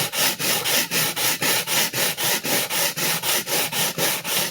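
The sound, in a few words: sharpening a vintage chef knife on a diamond plate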